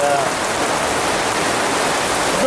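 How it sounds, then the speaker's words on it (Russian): A tropical evening downpour pours outside a bar in Kobuleti, a loud, unbroken wash of rushing rain noise filling the short stretch without pause. "Вышли мы уже из бара, и начался тропический ливень."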